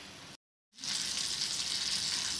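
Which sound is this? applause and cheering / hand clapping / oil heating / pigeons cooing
oil heating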